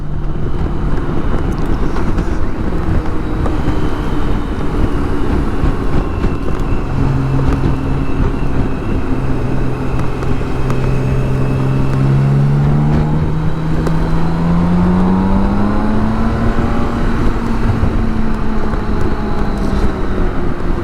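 A BMW K1600 GTL motorcycle runs at speed on the Autobahn in dynamic mode, its engine note rising and falling through gear changes beneath heavy, continuous wind roar for about twenty seconds.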